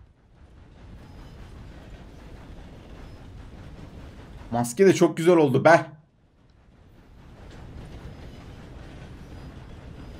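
A train in Red Dead Redemption 2 rolls past with a continuous low rumble and rattle that lasts the whole stretch. Someone talks briefly in the middle over it.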